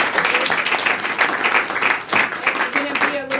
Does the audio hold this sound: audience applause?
yes